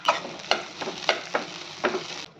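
Leftover rice being stirred in a hot pan of tempering, with soft rhythmic scraping strokes of a spoon over a steady low sizzle.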